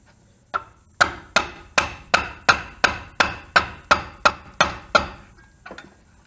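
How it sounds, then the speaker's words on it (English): A mallet strikes brake parts tight on a Jeep JK rear big brake kit, giving about a dozen sharp, evenly spaced knocks in a quick steady rhythm, close and clear. "I'm going to smack them again with that mallet"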